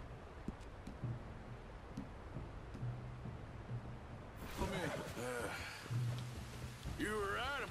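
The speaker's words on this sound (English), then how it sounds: "You were right about the damn rain." Steady rainfall in the video game Red Dead Redemption 2, a continuous hiss of drops with faint low thunder-like rumble, joined partway through by voices talking over it.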